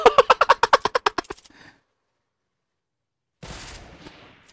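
Automatic gunfire in the Roblox shooter Fortblox rings out as a quick burst of about a dozen loud, evenly spaced shots that fade away, followed by silence and then a softer, rough noise.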